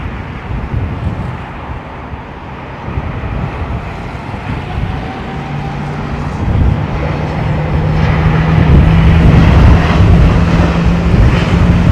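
A Cathay Pacific airliner begins its takeoff roll at London Heathrow in windy weather, its loud jet engine roar building steadily over wind buffeting on the microphone, heard from a distance with no talk.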